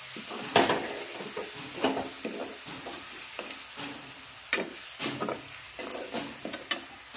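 Green chili paste frying in hot oil, a continuous sizzle broken by repeated sharp scraping and stirring strokes of a spoon against the pan, fairly close and without any talking.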